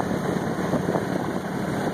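A Honda R18 Civic engine converted for aircraft use and fitted with an intercooler idles at about 1,000 RPM on a test stand, producing a constant loud drone with no other sound.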